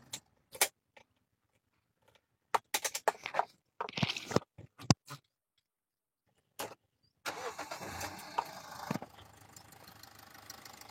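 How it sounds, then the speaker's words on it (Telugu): A 2018 Toyota Etios diesel car goes through scattered clicks and key and switch noises, then the engine cranks and catches, settling into a steady close diesel idle. "మళ్ళీ ఒకసారి మీకోసము బండి ఆఫ్ చేసి ఆన్ చేస్తా, ఒకసారి చూడండి."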